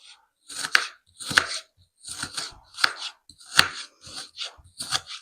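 A knife chops onions on a board in quick clustered bursts of crisp thuds, about eight separated groups, close and clear with no talking.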